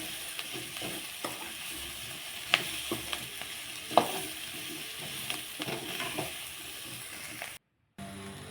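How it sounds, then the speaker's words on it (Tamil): Masala for mutton kulambu frying and sizzling in a pan, stirred with repeated scraping and clacking strokes close by. The sound is steady and continuous, then cuts to a brief silence near the end. "பச்சை வாசனை போகிற வரைக்கும் எல்லாமே நல்லா வணங்கணும்."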